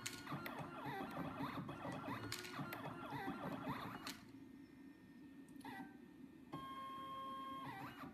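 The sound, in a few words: automatic breadboard jumper wire making machine running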